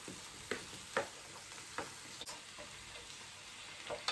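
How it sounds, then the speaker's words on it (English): Unseasoned minced meat browns in a pot with a soft steady sizzle, punctuated by about eight sharp scrapes and taps of a spoon stirring at close range. "I want to brown it down first before I put seasoning on"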